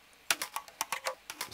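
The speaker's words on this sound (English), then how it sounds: "without the frequency shifter it would sound like this" Drum and percussion loops play together without a frequency shifter, a short burst of quick, crisp clicking hits in a tight rhythm, close and alone.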